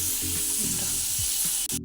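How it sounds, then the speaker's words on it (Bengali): Potatoes for a chicken dish fry in a pan with a steady, close sizzle and crackle throughout, joined by a few stirring scrapes, with no one talking. "চিকেনের যে আলু ভাজছি"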